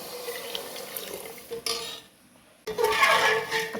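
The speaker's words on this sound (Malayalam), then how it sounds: "അപ്പോൾ ഇനി നമുക്ക് പാൽ ഒഴിച്ചു കൊടുക്കാം ഞാൻ പാല് തിളപ്പിച്ചതാണ് കേട്ടോ അത് നമുക്ക് ഇതിലേക്ക് ഒഴിച്ചു കൊടുക്കാം" Boiled milk pours from a steel vessel into a pressure cooker for milk payasam, a soft liquid stream with light metallic clinks, a brief pause, then a louder, fuller splash of pouring, with no talking.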